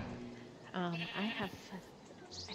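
Sheep bleat in the game Minecraft with a couple of wavering cries near the middle, fairly close and alone without talk.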